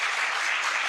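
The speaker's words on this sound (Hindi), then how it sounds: "उसके लिए आज जोर से ताली" An audience bursts into loud, dense clapping at an evening Hindi talk in Vrindavan, a continuous wash of applause filling the whole moment.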